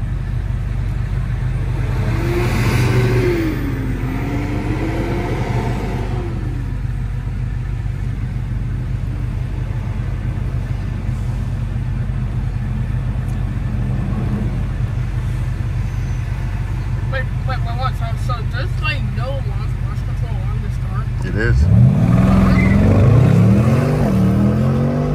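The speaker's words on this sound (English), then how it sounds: "I'm definitely launching the car" A 2021 BMW M550i with a muffler delete and quad tips idles with a low rumble, then revs hard near the end as it launches, with faint voices in the background.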